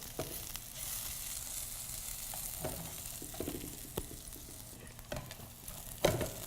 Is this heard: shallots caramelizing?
yes